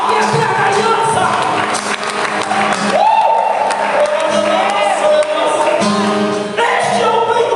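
A large church congregation claps and cheers loudly and continuously, with whoops and shouts rising over the dense, sustained applause.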